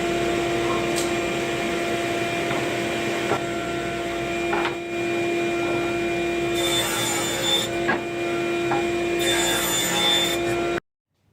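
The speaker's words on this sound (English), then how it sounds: "Got our table saw set up at 9 inches right now. Go ahead and run the first pass through here." A table saw set at 9 inches runs with a steady high motor whine while wood feeds through, scraping and rasping bursts rising near the middle and end before the sound cuts off abruptly.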